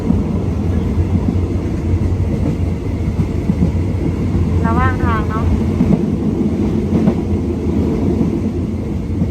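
A train rolls along the railway in Thailand with a loud, steady low rumble, while people talk over the constant noise.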